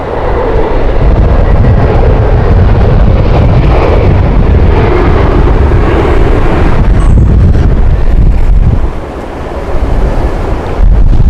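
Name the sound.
strong wind at Heathrow Airport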